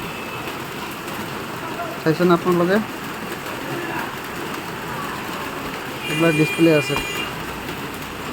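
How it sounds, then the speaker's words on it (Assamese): Rain falls outside as a constant soft patter and hiss beneath a voice talking indoors in short bursts. "বৰষুণ হৈ আছে, মানে এইকাৰণে শব্দ হৈ আছে।"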